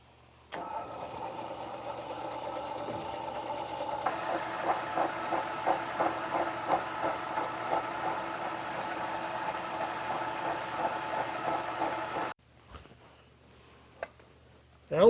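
A Dumore toolpost grinder runs on a lathe, a steady electric whine starting with a click, then taking on a rhythmic pulsing grind as it is fed by hand, before stopping abruptly with a few faint clunks after.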